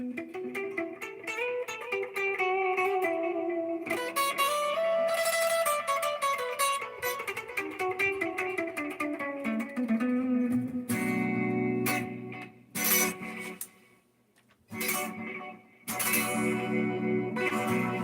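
An electric guitar plays a long swirling passage with a sweeping, whooshing phase effect, followed by choppy strummed chords with brief pauses between them.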